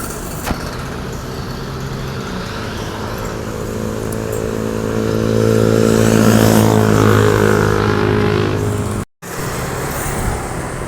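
A medium bus with its engine running at a bus pool in Indonesia, giving a steady low rumble that swells louder and rises in pitch midway and then eases back, loud and close, with no talk and a brief cut near the end.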